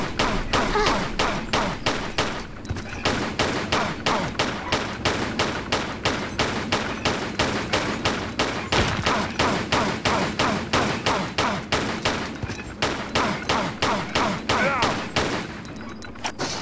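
Pistol fire in Tomb Raider IV, a fast, relentless stream of sharp shots at an even rhythm, loud and close, with brief pauses around a few seconds in.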